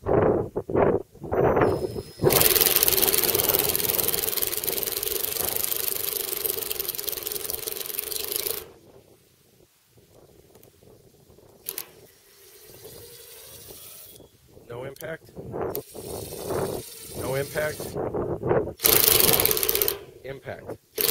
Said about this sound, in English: the impact mechanism inside here makes an extra hitting motion internal to the tool, and you can hear that